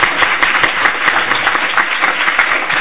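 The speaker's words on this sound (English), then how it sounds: "I'm actually going to ask for a round of applause for our panelists" A conference audience applauds a panel of speakers, a dense, steady wash of many hands clapping at close range for nearly three seconds with no voices over it.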